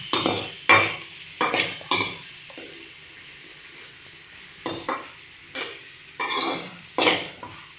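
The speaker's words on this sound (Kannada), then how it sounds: "ಇದು ಸ್ವಲ್ಪ ಕಲರ್ ಚೇಂಜ್ ಆಗೋಲ್ಲಿವರೆಗೆ ಹೀಗೆ ಫ್ರೈ ಮಾಡಿ." Food frying in a pan on high flame while being stirred, scrapes and sizzle bursts coming in repeated short strokes over a steady low hiss, close and moderately loud, with no talking.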